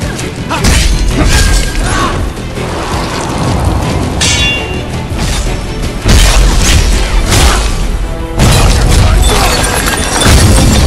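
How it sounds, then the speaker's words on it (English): Cannon fire in the video game Final Fantasy Origin, loud booming blasts layered over dense continuous battle noise and music, with heavy low rumbling hits recurring across the stretch. "Cannon, it's gonna hurt."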